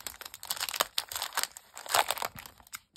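Sheets of tissue paper crinkle and rustle up close while a craft supply box is unpacked, a run of quick, crisp bursts with fuller crumples around the middle, with no talking.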